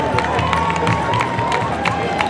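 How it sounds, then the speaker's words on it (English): Spectators cheer, clap and shout for runners at the Covered Bridges Half Marathon finish in Vermont, a dense outdoor crowd roar with scattered whoops and claps throughout, fairly close. "It's so great to see everybody out here cheering on their favorite runners."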